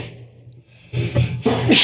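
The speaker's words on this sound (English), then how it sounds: "Epic dad sneeze." A man sneezes forcefully, with a short lead-in breath and then loud, explosive bursts close to the listener, set against a low steady hum.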